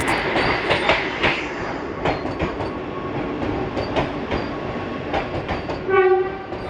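A Vande Bharat Express train on the Bolpur Shantiniketan to Malda run rumbles and clatters loudly and steadily, with rhythmic rail knocks, before a short horn blast sounds near the end.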